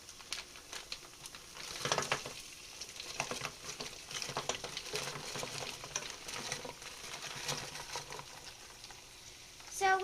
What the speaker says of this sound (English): going to add our frozen meatballs